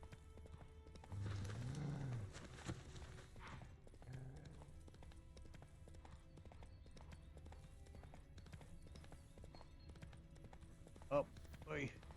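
Roach, Geralt's horse in The Witcher 3, clip-clops along in a quiet, steady hoof rhythm, with a short whinny near the start and someone talking over parts of it.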